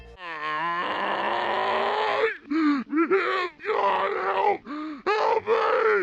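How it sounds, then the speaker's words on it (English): Drawn-out, wailing groans from a headcrab zombie in a video game, rising and falling in several long, loud moans separated by brief breaths. "Reversing the wailing noise they make actually reveals the headcrab zombies begging and screaming for help."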